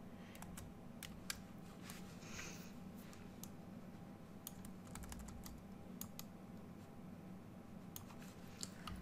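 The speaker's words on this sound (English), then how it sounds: "you can select the backslash key on your keyboard" Faint, quick clicking of keys on a computer keyboard, irregular taps and short bursts spread across the whole stretch, close but very quiet.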